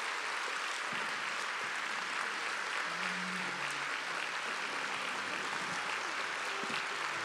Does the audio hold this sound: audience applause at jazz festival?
yes